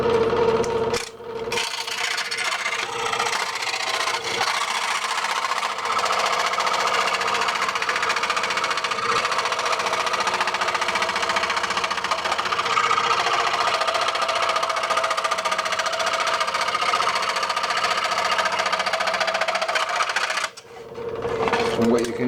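A small-tooth saw blade cuts through a laminated part with wood on one side and West resin with carbon fiber on the other. It makes a continuous, fairly loud rasping whine that holds steady for about twenty seconds, then briefly cuts out near the end.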